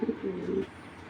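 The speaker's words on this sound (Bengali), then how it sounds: "কবুতরগুলো দেখাই এবার" A racing pigeon gives one short, close coo, a brief low rolling call that fades into quiet background.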